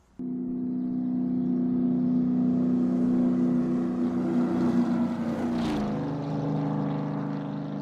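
A vehicle engine drones loudly and steadily as it passes close by, its pitch sliding downward around the moment of passing with a brief whoosh, then fading slightly as it moves away; no speech.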